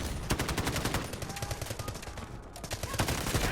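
Rapid bursts of bot gunfire in the Delta Force Mobile shooter game, a dense, continuous crackle of shots running loud throughout.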